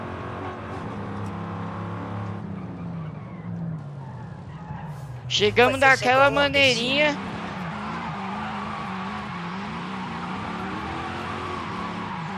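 Tires squeal and skid in Forza Horizon 5, a loud screeching burst of a few seconds from a smoking car, rising over a steady engine drone, with someone talking over the driving.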